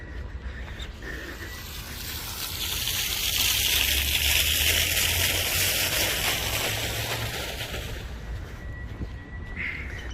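Steady rushing splash of fountains in Alameda Park, Mexico City, a broad continuous wash of falling water that swells slightly in the middle, heard outdoors with no talking.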